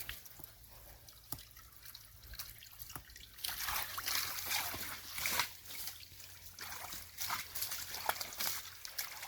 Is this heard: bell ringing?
no